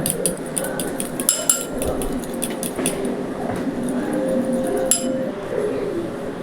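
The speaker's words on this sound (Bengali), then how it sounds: "এবার ডিমের কুসুমটাকে খুব ভালোভাবে ফেটিয়ে নিব।" Egg yolks whisked in a bowl for Thai soup, quick metallic clinks and taps of the whisk against the dish in an uneven rhythm, close, with a soft background hum.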